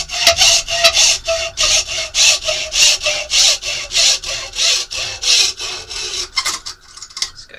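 Hand saw cutting through a laminate shot trainer in a workshop, a close, loud and steady rhythm of about a dozen back-and-forth strokes that slows and stops near the end.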